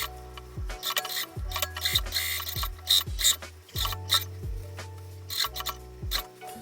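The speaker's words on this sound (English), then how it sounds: "try to sew this under the sewing machine" A sewing machine stitching in short mechanical bursts, clicking and whirring rhythmically with brief pauses between runs, close by and without speech.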